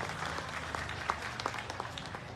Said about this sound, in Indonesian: Tepuk tangan yang meriah untuk Ganjar Mahfud